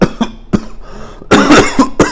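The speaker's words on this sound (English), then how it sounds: "I'm sorry about this cough." Several sharp coughs from one person, a pair early on and a heavier cluster near the end, loud and close with brief quiet gaps between bursts.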